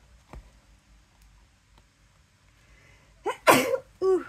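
A person sneezes loudly and close up after a quiet stretch with a faint click, followed by a short vocal sound right after.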